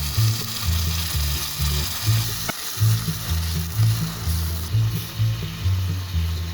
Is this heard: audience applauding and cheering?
no